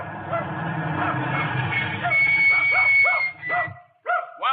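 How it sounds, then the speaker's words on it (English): A dog barks repeatedly as a radio drama sound effect in a farm scene, a run of close, sharp barks and yips over a rumbling background, ending with a few isolated barks. "if you'll call off your dog, ma'am"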